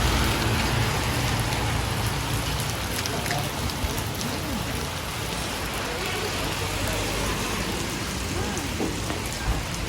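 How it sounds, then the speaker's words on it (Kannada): Heavy rain pours down in a steady, dense hiss of drops striking surfaces nearby, loud and continuous throughout, with faint traffic underneath. "ನೋಡಿ ಗೈಸ್, ಫುಲ್ ಜೋರು ಮಳೆ."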